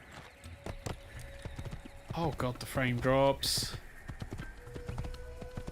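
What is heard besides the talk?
horse galloping in video game Assassin's Creed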